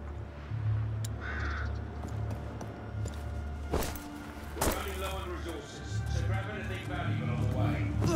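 Crows cawing in the video game A Plague Tale: Requiem, several harsh caws scattered over a steady ambient bed, with a voice speaking over them and a couple of sharp cracks and thuds in between.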